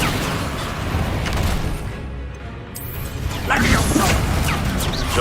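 The Incendio fire spell in the game Hogwarts Legacy, a loud, dense explosive crash and roar that briefly dips mid-clip and then surges again, with game clatter underneath.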